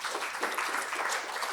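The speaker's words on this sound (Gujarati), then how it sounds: "એકવાર આપ સૌના આગમનને તાળીઓથી વધાવી લઈએ" An audience at a Gujarati book-launch ceremony claps to welcome the guests. The applause is steady and fairly even, and it lasts the whole short stretch without any voices.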